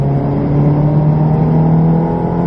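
Ferrari race car accelerating hard on the Silverstone circuit, its engine a loud, steady high-revving drone that holds a constant pitch throughout with no speech over it.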